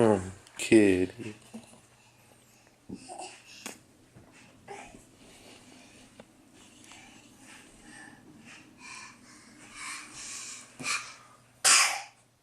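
A cat's sharp sneeze bursts out at the start, followed by quiet snorts and breathy sounds, with a person talking softly throughout.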